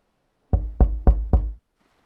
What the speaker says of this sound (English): I found myself measuring time, largely by the knocks at my door every morning and evening